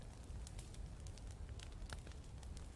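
A campfire in the survival video game Mist Survival burns with a faint, steady hiss and scattered soft crackles, quiet and unbroken throughout.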